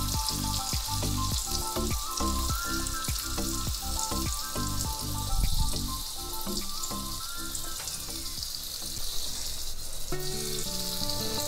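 Green and red chilies with a spoonful of sesame seeds frying in hot oil for a dal tadka, a steady crackling sizzle with sharp sputtering pops throughout, close and moderately loud, no talking.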